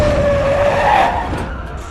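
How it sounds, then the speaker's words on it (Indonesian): A heavy truck's tires screech in a loud, sustained skid during a street scene in the film Red Sparrow, with a shrill squeal over broadband road noise before it cuts off. "dia tertabrak oleh mobil truk yang melintas"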